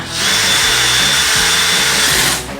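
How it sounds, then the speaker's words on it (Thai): A power drill drives screws into wood-pattern ceiling panels, running loud and steady for about two seconds at close range with no talking. "ยิงสกรูนะครับ จากแถวกลางกลางแผ่นก่อน"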